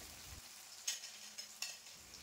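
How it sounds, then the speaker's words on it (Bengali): Chopped onions, two medium ones, frying in a pan with cumin, dried chilli and cloves for a chicken curry, giving a faint steady sizzle with a few soft stirring scrapes. "এরপর এখানে পেঁয়াজকে হালকা বাদামি করে ভেজে নেব।"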